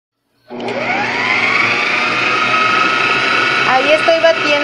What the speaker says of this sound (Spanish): Ya está lista mi batidora. Pues vamos a comenzar a batir.